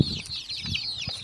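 Home-hatched chickens, hens and young chicks, cluck and chirp nearby in a short burst of overlapping high calls, with a soft rustle of wings underneath.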